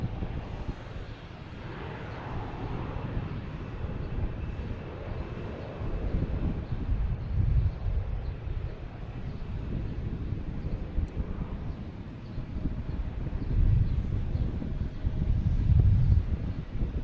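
A Delta Airbus A321 bound for Atlanta takes off at Boston Logan, a steady low jet roar that swells toward the end, with wind buffeting the microphone throughout.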